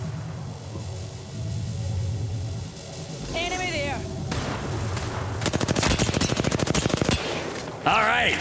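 Gunfire in an Apex Legends esports match, rapid bursts of automatic shots in the second half over game rumble and effects, close and loud, with talk heard in the clip.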